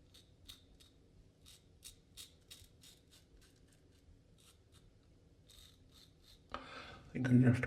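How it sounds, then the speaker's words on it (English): Close, quiet scratchy strokes of a Treet Starline razor blade shaving stubble under the nose, a rhythmic series of short rasps, ending with a louder rustle. "easy shave under my nose"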